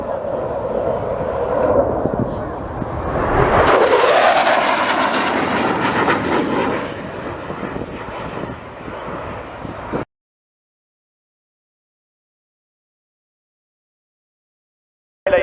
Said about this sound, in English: Captain Carmona for the last pass.